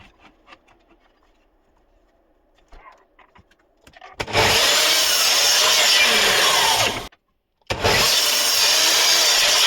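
A power saw cuts the ends off reclaimed wooden boards, loud and close, running in one long stretch, stopping briefly, then starting again after some quiet handling knocks.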